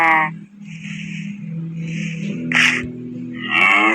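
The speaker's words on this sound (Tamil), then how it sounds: "மாடுங்க 2 பேரும் போயிட்டு ப்ரீட் பண்ணுங்க." Cows moo in a Minecraft One Block game, several drawn-out lowing calls close by that overlap, with short game sound effects between them.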